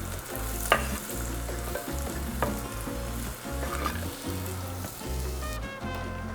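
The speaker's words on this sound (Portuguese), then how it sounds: "Vou começar aqui refogando a minha cebola." Onion sautéing in a pan for vegan arancini gives a loud, steady sizzle with scraping stirs and a few sharper crackles throughout.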